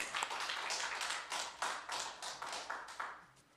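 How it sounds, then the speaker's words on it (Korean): A church congregation claps in a rhythmic, even beat of about a dozen distinct hand-claps, moderately distant and fairly quiet, fading slightly at the end. "하나님께 영광의 박수 돌리겠습니다."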